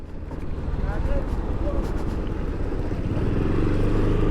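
Busy road traffic on a motorcycle ride near Bolinao, with a steady low rumble of engines and passing vehicles close by that swells slightly toward the end.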